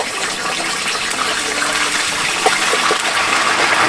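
Homemade beer-batter chips frying in hot oil on an ice fishing trip at Red Lake, a loud continuous rushing, bubbling roar as the pot foams over, steady throughout with no voices.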